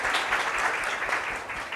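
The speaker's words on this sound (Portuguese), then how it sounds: "Salva de palmas para os três." Audience applause at an agriculture conference on climate change, a dense steady wash of many hands clapping throughout, moderately loud and unbroken.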